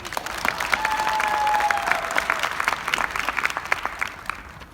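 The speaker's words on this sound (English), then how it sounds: "Give yourself a round of applause." A graduation audience bursts into applause, a dense wash of many hands clapping that swells to a peak and then thins into scattered claps.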